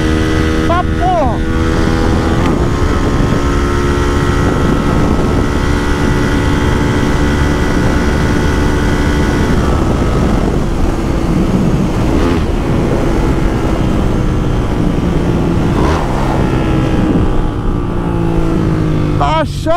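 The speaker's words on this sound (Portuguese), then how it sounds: "Essa moto tá muito forte" A Start 230 motorcycle engine runs loud and close on a street, with sustained revving and shifting pitch throughout, while people talk over it.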